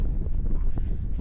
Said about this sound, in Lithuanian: Vėjas baisiai šaltas.